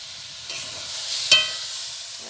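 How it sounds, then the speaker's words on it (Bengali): Chowmein ingredients fry in a hot pan with a steady, bright sizzle. A single scrape of a spatula stirring them cuts through the sizzle partway, up close and with no talking. "এবার ভাজা ভাজা মতো হয়েছে, আর একটু ভাজতে হবে।"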